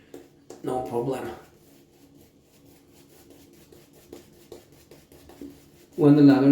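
A shaving brush works Mitchell's Wool Fat soap into lather for wet shaving. Two bursts of wet rubbing and swirling sound up close, one near the start and one at the end, with a quieter stretch between them.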